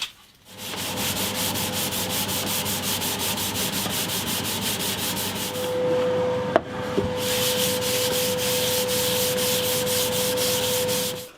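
A cloth rubs Crimson wipe-on guitar lacquer across the body of a hollow-body guitar, making a steady close rasping swish with one brief pause, while a faint high hum enters partway through.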